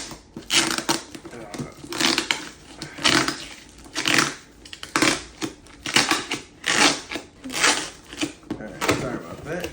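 Thick tape pulled off a shoe box in a run of sharp ripping and crackling bursts, close and fairly loud, repeating every second or so, with someone talking over it.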